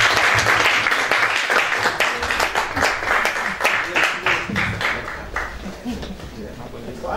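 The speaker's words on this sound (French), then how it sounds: "Nous allons applaudir pour notre Dieu." A church congregation applauds in praise, dense rhythmic clapping that holds steady for about seven seconds. Voices and singing mix in underneath.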